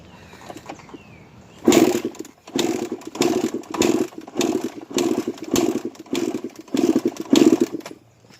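Suzuki RM 125 two-stroke dirt bike engine, a 1993 model that is flooding, runs in rough repeated bursts of revving after starting at close range, loud and uneven with short gaps between pulses.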